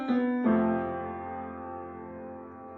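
A chord sounds, then shifts to a second chord in the Lydian mode that rings out and slowly fades away, warm and sustained.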